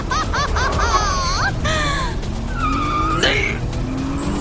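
A car rolls on its own and skids, tires squealing over a low engine rumble while voices cry out and laugh, loud and close.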